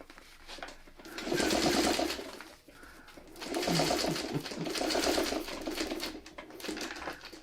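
A hand-cranked sewing machine stitches in two rapid clattering bursts over pins, close and clear, separated by a brief pause.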